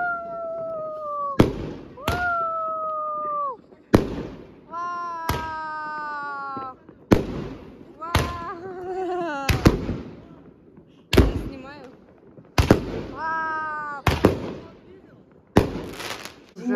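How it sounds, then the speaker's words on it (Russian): New Year fireworks go off outdoors near the sea: repeated sharp bangs every second or two, several preceded by rising whistling shrieks, with occasional voices in between. "Сейчас салют покажем."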